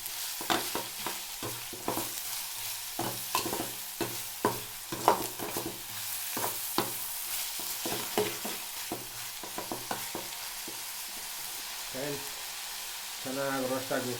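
Vegetables roast in a pan for egg rice, with a continuous sizzle under repeated scraping stirs of a spatula at an irregular rhythm, close and moderately loud.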